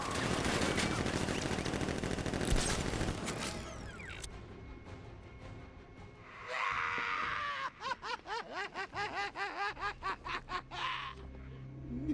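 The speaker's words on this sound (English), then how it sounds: "Guard! Open fire! Shoot everything!" Automatic gunfire from armed guards in Batman: Arkham Knight, a dense loud stretch of shooting and game effects followed by a run of rapid, evenly spaced bursts with small yelping calls riding over them.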